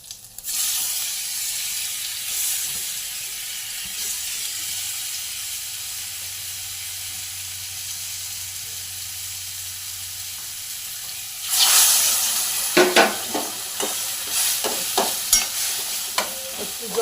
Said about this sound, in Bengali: শুকনো লঙ্কাটা ফোড়ন দিয়ে দিলাম, আর একটু 5 ফোড়ন দিয়ে আবার এগুলো দিয়ে দেবো।